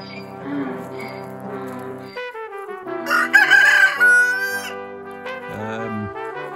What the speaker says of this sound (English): Here come all the chickens.